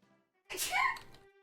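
A single short, fairly faint sneeze bursts out near the mic against quiet surroundings.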